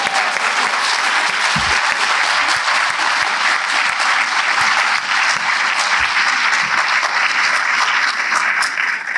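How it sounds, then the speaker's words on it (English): Sustained, loud audience applause at the close of a debate, a thick continuous roar of clapping from a large crowd that stays strong and even from start to finish, with only a few faint thumps beneath it. "Shall we give them a round of applause for their..."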